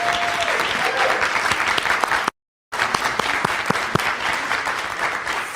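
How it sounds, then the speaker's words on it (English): An audience claps at a library event, steady dense applause from a sizable crowd, with a short break partway through before the clapping carries on. "I want to first give Anthony Galloway a round of applause."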